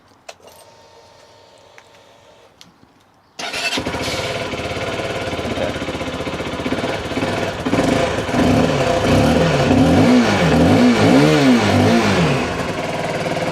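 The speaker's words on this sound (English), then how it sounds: "Just got to make sure the bike still works after stripping it." A Lexmoto LS-Z motorcycle, freshly stripped and fitted with replacement panels, starts after a few quiet seconds and idles steadily up close, then rises and falls through several throttle blips toward the end.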